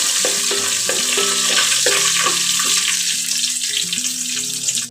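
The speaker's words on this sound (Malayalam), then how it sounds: "രണ്ട് വറ്റൽമുളക് ഇട്ട് കൊടുക്കാം കുറച്ച് കറിവേപ്പില ഇട്ട് കൊടുക്കാം എന്നിട്ട് നന്നായിട്ട് നിളക്കി കൊടുക്കാം" Dried red chillies and curry leaves frying in hot oil, a loud continuous close-up sizzle with stirring under a steady tonal hum, cutting off abruptly at the end.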